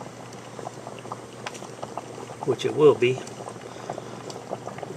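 Water boiling during an electromagnetic boiler core test, a soft bubbling that swells briefly near the middle, heard close under a voice.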